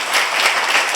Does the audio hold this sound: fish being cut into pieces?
no